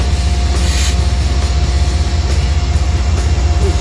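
Train at Croton train station, a loud, steady low rumble with faint rhythmic wheel clatter throughout, close by and alone with no talking.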